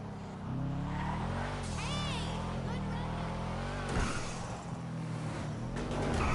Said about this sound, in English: You hear that turbo with the blow-off valve.